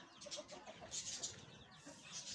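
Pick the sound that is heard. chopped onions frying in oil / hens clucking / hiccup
hens clucking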